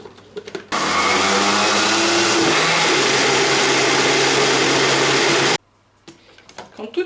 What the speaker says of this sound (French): on va mixer le tout pendant environ 1 minute